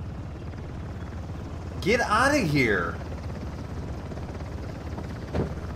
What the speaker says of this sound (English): What is that helicopter doing?